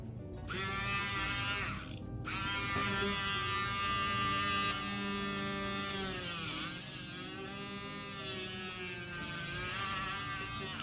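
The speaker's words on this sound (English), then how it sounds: "In reality, I didn't need to use the Dremel for that." Dremel rotary tool cutting a tab off a plastic Gundam model kit part, a steady high-pitched whine with harmonic buzz that dips and rises in pitch as it bites, close and continuous.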